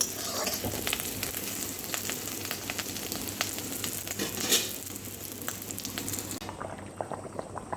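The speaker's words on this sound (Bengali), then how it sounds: "এটা দিয়ে দু মিনিট খালি ফুটিয়ে নেব ব্যাস তাহলেই শুক্তো রেডি হয়ে যাবে" Shukto, a Bengali mixed-vegetable curry, bubbling and simmering steadily in a pan, with soft popping and sizzling throughout until a faint hiss near the end.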